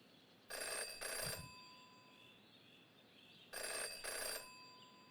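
In the Jenny LeClue video game, a telephone rings in two double bursts, clear and bright over a quiet background with no talk.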